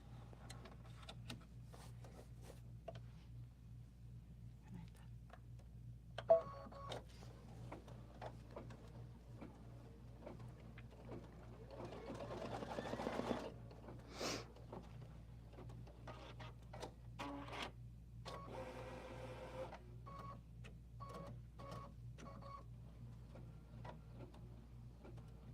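An embroidery sewing machine stitches small placement lines in a hoop for a Kimberbell project, giving a quiet, faint run of ticking and whirring with a steady low hum, a sharp click, and a brief louder motor stretch midway.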